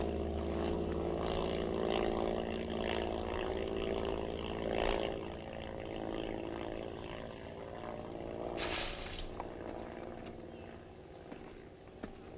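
A propeller airplane drones overhead, a sustained buzzing engine roar that swells and fades across the sky, with a brief sharp hiss near the end.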